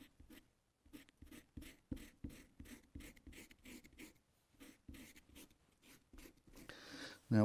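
An eraser rubs dried masking fluid off watercolor paper in a series of short, close scratchy strokes that pause and resume in a steady rhythm, ending in a louder burst.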